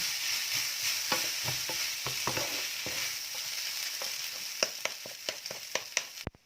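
Rösti mixture with bacon being stirred in a hot pan, with a steady sizzle and a run of scraping and tapping strokes that grow sharper toward the end.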